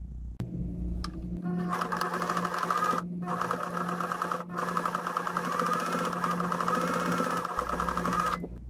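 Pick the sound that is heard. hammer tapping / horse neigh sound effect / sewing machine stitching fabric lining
sewing machine stitching fabric lining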